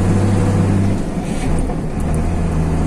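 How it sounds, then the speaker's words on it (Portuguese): A car accelerates on the BR 354 highway in Brazil toward Bambuí, giving a steady, close engine drone with low rumbling tones and continuous road noise throughout, with no voices. "Agora nós vamos acelerar o carro."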